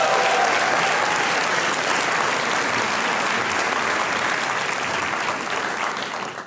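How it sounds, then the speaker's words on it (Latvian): A live audience at a FuckUp Nights event in Riga gives loud, sustained applause for a speaker, dense clapping throughout with a slight fade at the very end. "Ar skaļiem, nenormāliem aplausiem"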